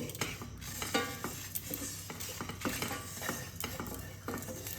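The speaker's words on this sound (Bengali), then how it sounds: "এবার আমি এই মশলাগুলোকে মিডিয়াম আঁচে হালকা করে ভেজে নেব।" Whole pickle spices for a sweet-sour jujube pickle being fried and stirred in a pan on medium heat, a constant close sizzle broken by repeated metal spoon scrapes and clinks against the pan.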